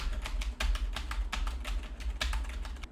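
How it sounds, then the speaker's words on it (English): Rapid computer keyboard typing, a steady patter of clicky keystrokes with occasional heavier taps, close by and alone, with a low hum underneath, recorded through a Fifine K678 microphone. "Now listen to the keyboard."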